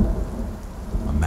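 Heavy rain pours down in a storm while low thunder rumbles underneath, a dense, continuous wash of sound that stays loud throughout.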